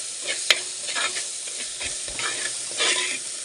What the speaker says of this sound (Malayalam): കുറച്ച് കരിവേപ്പില ഇട്ട് കൊടുക്കുന്നുണ്ട്. നമ്മൾ ഉള്ളി ഇതൊക്കെ മൂത്ത് വന്നിട്ടുണ്ട്.